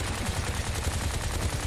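Rapid gunfire from the video game Bright Memory, a dense stream of repeated shots firing in quick succession at low volume.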